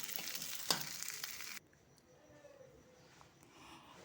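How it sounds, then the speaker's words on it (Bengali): Whole nigella and cumin seeds frying in oil while being stirred, a close sizzling hiss with a single utensil clink that cuts off abruptly after about a second and a half, leaving quiet room noise. "তারপরে আমি দিয়ে দেবো কিছুটা গোটা জিরে, দিয়ে আবারও ভালো করে নেড়ে চেড়ে নিতে হবে।"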